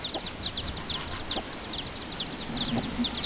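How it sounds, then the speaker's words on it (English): Chickens cluck softly and repeatedly in quick, chirpy bursts over a steady outdoor hiss, several birds calling at a modest distance. "Look at all these cute little fluffy butt chickens."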